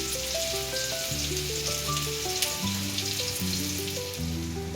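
Surmai fish fries Malvani style on a low flame, a soft, steady sizzle running throughout beneath a background melody.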